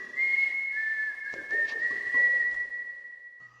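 A phantom whistling on a station platform in the video game Dark Fall: The Journal, a single sustained clear whistled tone that wavers slightly, eerie and alone over faint ambient noise.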